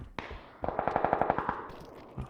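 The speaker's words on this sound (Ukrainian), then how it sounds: "Постріли" A rapid burst of automatic gunfire in a video game, about ten evenly spaced shots in quick succession, preceded by a single sharp shot and followed by a softer thump.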